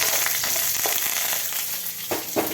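Dried red chillies and curry leaves fry in a pan with a steady close sizzle, broken by a few short crackling pops near the end.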